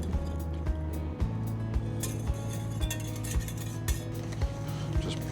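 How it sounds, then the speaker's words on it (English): A whisk stirs coconut cream, honey and dissolved gelatin leaves in a bowl, with regular light metallic clinks against the side over soft background music. "Just whisk that all together."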